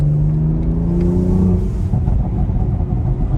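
A BMW X4 M engine with an Akrapovic sport exhaust revs hard in sport mode, throaty, the pitch climbing and holding before falling away, loud and close, with no voices.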